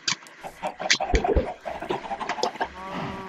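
Chickens clucking in the Minecraft video game, several short clucks and squawks in irregular bursts, fairly close, with faint background noise and no talk.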